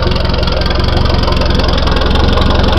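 Renault GT Turbo idling beside its exhaust, a loud close rumble with a rapid, even pulsing throb that stays steady throughout, with no talking.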